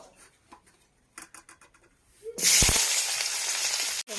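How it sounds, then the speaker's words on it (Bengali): Tomatoes dropped into hot oil in a home kitchen burst into a loud, steady sizzle after a couple of seconds of quiet clinks and movement, the hiss continuing strongly to the end. "এই তেলেই আমি প্রথমে দিয়ে দেবো টমেটো"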